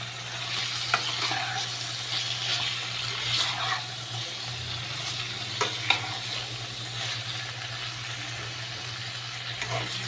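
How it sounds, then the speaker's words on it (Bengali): Spice paste and half a tomato fry and get stirred in a pan, with a steady sizzle and occasional scraping clicks running continuously and fairly close. "মশলাটা একটুখানি ভাজা হোক। দেখো বন্ধুরা, কষানো হচ্ছে।"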